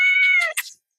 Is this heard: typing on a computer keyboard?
no